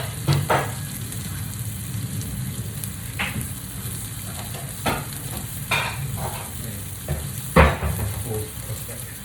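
Food fries in a pan with a steady, loud crackling sizzle, punctuated by a handful of sharp clinks and scrapes of stirring utensils against the pan.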